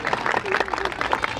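Audience at a ministry event in India clapping together in a brief burst of applause, with a voice speaking over the clapping.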